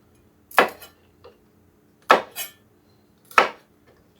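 A knife chops through trail mix ingredients on a cutting board in three crisp, close strokes spaced about a second and a half apart, each with a small trailing tap, in a quiet room.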